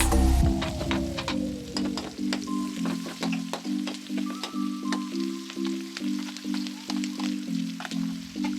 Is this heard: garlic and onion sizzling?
yes